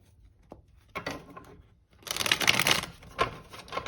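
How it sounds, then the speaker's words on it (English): Close-up tarot card handling: a few soft taps and slides, then a louder burst of brisk shuffling with crisp papery flicks, tapering off. "we'll do one last shuffle"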